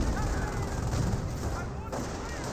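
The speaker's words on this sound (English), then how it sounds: "Light half track firing away against this rifleman squad" A light half-track fires on a rifleman squad in the strategy game Company of Heroes 1, heard as a loud, dense, continuous rattle of gunfire over battle noise throughout.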